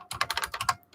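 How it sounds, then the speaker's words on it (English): Someone is typing by hand on a computer keyboard, giving a quick, close run of about seven crisp keystrokes, a short pause, then another key press. "I'm going to manually type it out."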